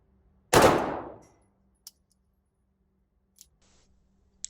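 A single loud gunshot at a gun range cracks and rings out, decaying over about half a second, followed by faint clicks and light handling noises.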